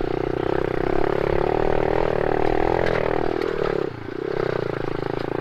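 A mini motorcycle's small engine runs steadily at close range, its buzzing note dipping briefly before picking back up, with no talking over it.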